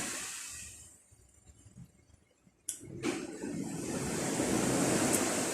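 Waves crash onto the shore at the sea under dark, rainy weather, a broad wash of surf that drops away, then surges back with a loud crash and builds, with wind noise over the microphone.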